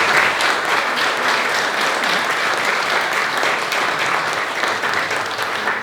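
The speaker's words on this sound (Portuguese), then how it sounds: "Uma salva de palmas, por favor." Sustained applause from an audience at a library event, steady dense clapping that stays loud and even from start to finish.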